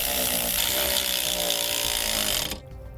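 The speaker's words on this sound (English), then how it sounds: "And now we'll tighten those nuts down with an 11/16 socket." Power tool running nearly three seconds while tightening nuts with an 11/16 socket on an electric trailer brake assembly, a loud, steady buzzing drone that cuts off near the end.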